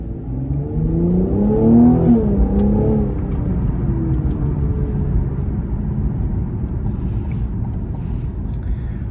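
A Cadillac CT5-V pulls away and accelerates, its engine rising in pitch and then settling into a steady, loud cruising drone with road and wind noise. No one speaks.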